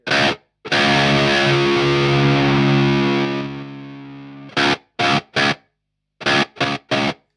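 Heavily distorted guitar sustains, then cuts abruptly into short choppy bursts with dead silence between, as a RedSeven NGR-1 noise gate set to an extreme level chokes each note.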